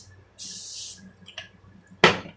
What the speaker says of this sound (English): Spray. I'm going to spray it down.